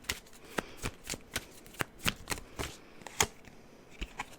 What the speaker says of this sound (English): So let me take another card.